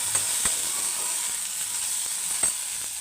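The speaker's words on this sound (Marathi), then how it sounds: "तेल टाकलं की इकडे लगेच मी मसाला टाकते" Spice masala frying in hot oil, a bright, steady sizzling hiss close up, with a few sharp spatters and pops.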